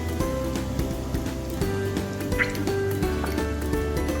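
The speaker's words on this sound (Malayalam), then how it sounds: "ഞാനൊരു 250 ml വിപ്പിംഗ് ക്രീമാണ് അതിൽ ഒഴിച്ച് കൊടുക്കാൻ പോകുന്നത്" 250 ml of whipping cream is poured into a hot pan for homemade chicken pasta, giving a steady, close, bubbling sizzle of liquid that runs unbroken for a few seconds.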